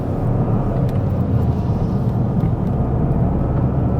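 Toyota GR Corolla engine during a hill climb, a loud continuous low rumble and drone from inside the car, steady for the whole stretch with no talk.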